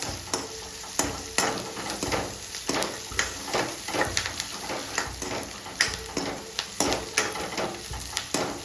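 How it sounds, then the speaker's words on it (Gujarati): Onions sizzle steadily in a hot pan while being stirred, with regular scraping strokes of a spoon cutting through the close, continuous frying hiss. "ડુંગળી થોડી લાલ થાય કથ્થઈ કલર જેવી તાર સુધી થવા દેવાની."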